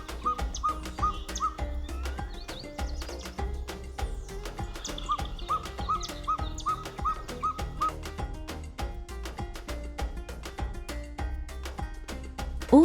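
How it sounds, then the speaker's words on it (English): A ferruginous pygmy owl calling in Costa Rican mangroves, a long run of evenly spaced, repeated sharp notes with other birds chirping around it, clear and fairly close. "It was obviously being kept interested by the call of the ferruginous pygmy owl."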